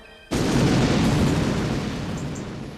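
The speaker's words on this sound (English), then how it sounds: "After the first explosion" A loud, sudden explosion from a BBC 999 drama reconstruction bursts in at once and rolls on as a sustained roar that barely fades, with no talk over it.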